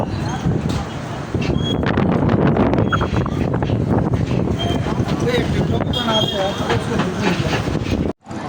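Strong wind in Karachi's DHA roars and buffets the microphone with a loud, constant rumble, with a voice faint underneath.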